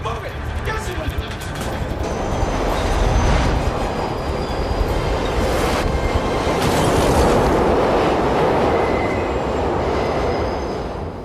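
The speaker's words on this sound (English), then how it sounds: "Metro just passed through the station." A subway metro train rolls through a station, its rumble and rail clatter filling the space loudly and continuously, with wheel screech and metallic squeals rising over the roar; voices can be heard in the mix.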